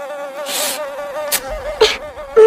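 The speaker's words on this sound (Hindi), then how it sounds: "उसे काफी ज्यादा मच्छर परेशान करने लगते हैं।" Mosquitoes buzz in a thin, high, steady whine that wavers slightly in pitch, close and fairly loud, broken by a few short noisy bursts.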